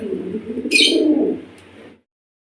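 Cream bar beauty Huma fancy pigeons coo close up in one low, rolling, throaty call lasting about two seconds, with a brief rustle partway through before it falls silent.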